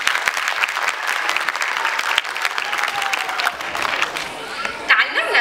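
An audience applauds and cheers for five-year-old children at a kindergarten mental-arithmetic show, with dense sustained clapping close by and crowd noise mixed in throughout.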